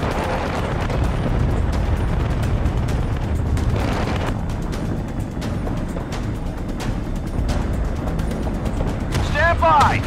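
Artillery fires in the war game Battlefield: Bad Company, with heavy rolling booms and rumbling blasts filling the scene continuously while voices talk over the din.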